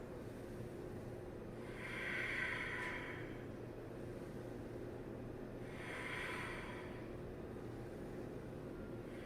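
Two slow, deep breaths during a yoga session, each a long airy exhale a few seconds apart, close and soft over a low room hum.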